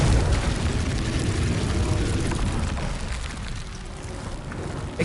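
A Confringo blasting spell exploding in the game Hogwarts Legacy: a loud, sustained roaring blast that fills the whole moment and barely fades before another burst at the end.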